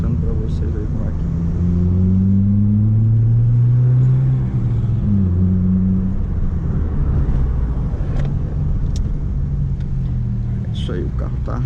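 Opel Corsa 1.4 with original engine and sport exhaust running on a street, a steady low exhaust drone with rising revs, under someone talking.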